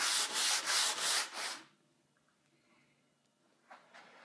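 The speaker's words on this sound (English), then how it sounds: "Now, you only really need a light sanding to take care of this." An old wooden dresser gets a light hand sanding before painting: four quick rhythmic rubbing strokes, close and fairly loud, then near silence with one faint scrape near the end.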